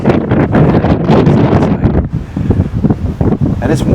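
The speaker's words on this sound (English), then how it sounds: "It's still kind of windy." Strong wind buffets the microphone in loud, rumbling gusts, easing slightly partway through, with faint rustling in the background.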